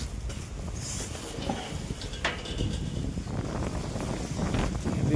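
Cold wind blowing across an open house construction site, buffeting the microphone with a steady, rough rush and gusts that build toward the end, with no speech.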